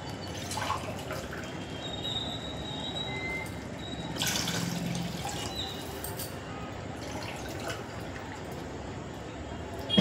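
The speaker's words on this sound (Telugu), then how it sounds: "1 గ్లాస్ రైస్కి 2 గ్లాసులు వాటర్ వేసుకుంటున్నాను" Water poured into a pot of rice for tomato rice, two glasses of water to each glass of rice, as a steady, close, broadband pour with faint drips, continuous for about ten seconds and no talking.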